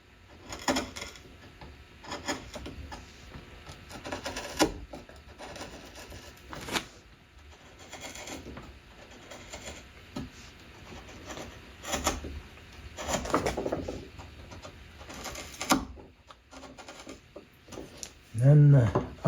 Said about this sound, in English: I'm just cleaning up that area that I couldn't get to with the straight chisel from the top